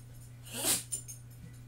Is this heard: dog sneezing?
yes